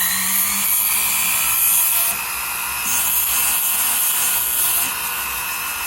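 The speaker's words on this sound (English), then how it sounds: "going to go in with my fine sandpaper disc to clean up some of these edges" A fine sandpaper disc on a rotary tool cleans up the edges of a handmade metal bezel opening tool, giving a steady high-pitched whine with brief dips in load, close and loud.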